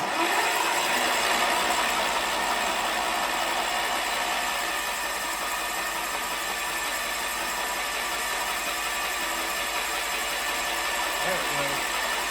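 A Wheel Horse tractor engine cranks over steadily to pump fuel, a continuous, even mechanical churn at fairly close range with no clear firing, while someone talks.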